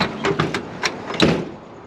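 A classic Chevy car door with worn hinges being worked open, giving a few sharp creaks and metallic clunks in quick succession, close by and fairly loud before fading.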